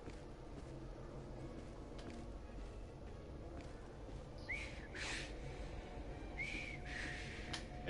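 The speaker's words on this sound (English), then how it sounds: "I've just learned to whistle." In Assassin's Creed Syndicate, a woman gives two short, faint whistles a couple of seconds apart. Quiet ambient noise and soft movement sounds surround them.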